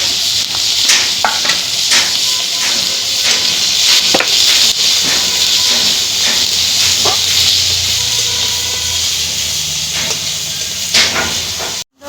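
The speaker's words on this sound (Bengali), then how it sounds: "এই দেখুন হচ্ছে পেঁয়াজ, রসুন, অল্প দু একটা কাঁচা লঙ্কা তেলে দিচ্ছি।" Onion, garlic and a couple of green chillies frying in hot oil for Bengali kochur shak, a loud steady hiss and sizzle with occasional crackles and pops throughout.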